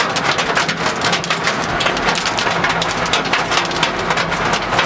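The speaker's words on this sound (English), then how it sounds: "that's the third lot of hail so far." A large thunderstorm in Maitland pours heavy rain with hail, a loud, dense and continuous hiss and patter of drops and hailstones striking surfaces close by, with no voices.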